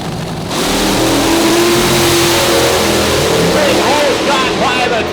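A twin-engine Hemi rear-engine nostalgia fueler dragster roars loudly and steadily for several seconds after a quiet start, with crowd noise and a voice talking over it at the drag strip.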